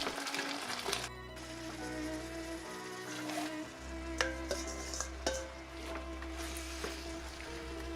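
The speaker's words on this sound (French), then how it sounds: "Nos légumes sont en train de suer." Diced vegetables, including onions, sweat in a pan as the base for a spaghetti tomato sauce, a soft low sizzle running throughout with occasional stirring scrapes and clicks of a utensil.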